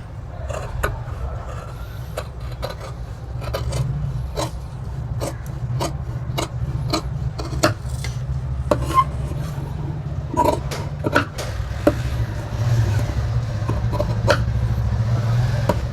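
Tailoring scissors cut through a stack of three blouse pieces of fabric. Crisp, close snips come at irregular intervals over a low steady background hum, with no speech.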